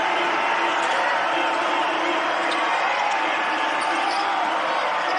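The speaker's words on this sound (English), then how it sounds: "Crowd starts to get into it." A basketball arena crowd at a Duke at Notre Dame game rises into a steady, loud roar of cheering and noise, with a commentator talking over it.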